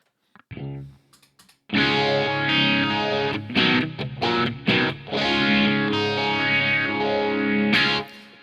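A few quiet picked notes, then loud distorted electric guitar chords with a sweeping, whooshing phaser modulation placed after the amp, played in bursts and sustained strums.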